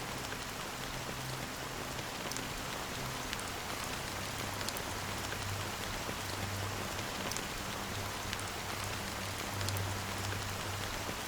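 Steady rain falls in the Honkai: Star Rail video game, a dense, even hiss of drops on surfaces continuing unbroken throughout with no voices.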